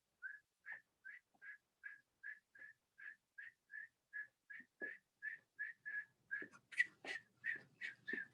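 A storyteller at a live storytelling concert whistles in imitation of chickens: about twenty short, bright, chirping whistles in a steady rhythm, close and clear, turning busier and overlapping near the end.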